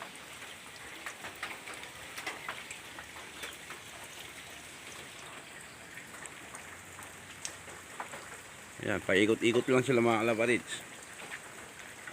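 Steady rain patters and hisses throughout, close by, and a person speaks briefly near the end over the downpour.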